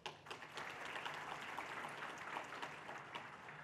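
Conference audience gives a round of applause, a steady wash of many hands clapping at moderate volume, slightly distant, with no talking over it.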